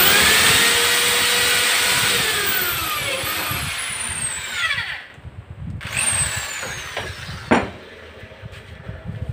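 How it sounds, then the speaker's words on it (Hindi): An electric power drill bores a hole through a ruler, running as a steady loud whine with a few rising pitch sweeps and pauses, close up with no talk. "और मैं इसका सुराख कर रहा हूँ।"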